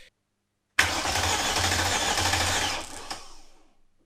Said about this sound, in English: all I'm going to do is crank it over and see what happens